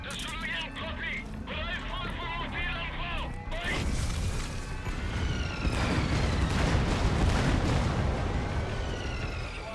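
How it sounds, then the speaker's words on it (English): A separator tank blows up in Metal Gear Solid V, a sudden loud blast at about four seconds that rolls into sustained heavy rumbling and crackling debris, preceded by speech-like game voices and ambience. "Though security will be tighter after that explosion."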